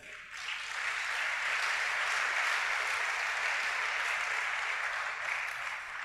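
A church congregation claps together in a dense, even wash of applause that swells in quickly and holds steady for several seconds, with no speech over it.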